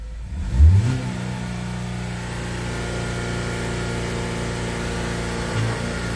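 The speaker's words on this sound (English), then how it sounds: "Put the accelerator pedal all the way to the floor so the vehicle speed is maximum" A Ford Focus engine revs up sharply as the accelerator pedal is floored, then holds a loud, steady high-rpm drone for several seconds with a slight surge near the end.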